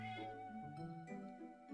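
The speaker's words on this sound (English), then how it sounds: "Did you meow?" A cat meows on a short, tonal, wavering call with a falling pitch, heard close and fairly clear against a quiet background.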